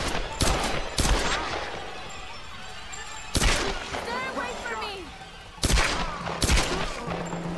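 Gunshots in Tomb Raider come in sharp, loud single cracks spaced a second or more apart, mixed with shouting voices and clattering impacts in between.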